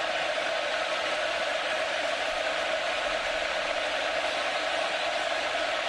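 A college football stadium crowd roars continuously during a Missouri Tigers versus Texas A&M Aggies game on third down, a dense, steady wash of noise with no breaks, loud and enveloping from start to finish.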